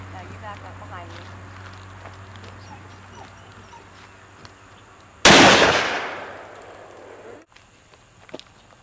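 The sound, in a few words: gunshot at a standing target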